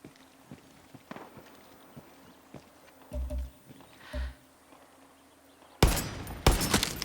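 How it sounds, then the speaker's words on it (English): Far Cry 6 combat: quiet footsteps and ambience, then two dull low booms, followed by a loud burst of rapid gunfire and blasts near the end. "Lots of explosions."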